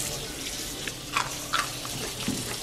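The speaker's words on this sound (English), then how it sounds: "Go under the water like this and just rinse them." Tap water runs steadily over beans being rinsed under the faucet for growing microgreens, a continuous near splashing hiss with a few brief louder spatters.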